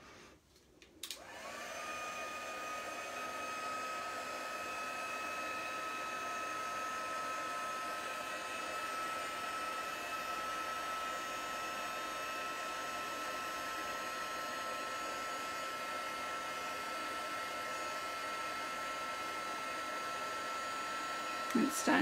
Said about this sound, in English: Let's bring in my heat gun.